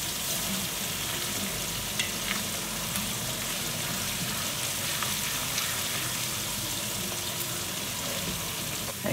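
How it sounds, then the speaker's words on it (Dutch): Steady crackling sizzle of Surinamese fried rice frying in a pan, continuous and fairly close, with faint stirring noises and no talking. "Hij is lekker aan het bakken."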